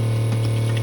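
A Schenker 30 Zen watermaker runs with a steady, close pump hum, and there is a faint watery hiss as water starts coming out.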